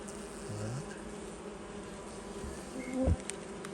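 Honeybees buzzing around an open beehive in an apiary, a faint continuous hum with individual bees droning past up close, plus a few soft handling knocks.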